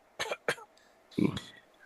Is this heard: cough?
yes